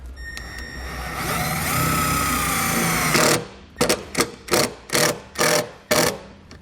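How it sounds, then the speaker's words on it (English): A cordless bit driver sinks a self-tapping screw into layered metal on a 2018 Ford EcoSport, whirring in one long grinding burst, then firing five or six short rapid bursts as it tightens, close and loud. "I'm going to take the included self-tapping screw and a 1/4-inch bit driver."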